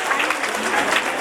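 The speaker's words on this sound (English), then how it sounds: "Let's stand and give him a great hand of applause and a standing ovation to our dear correspondent, sir." Parents and audience at a school Republic Day celebration give a standing ovation, a brief, dense burst of steady applause that fills the space.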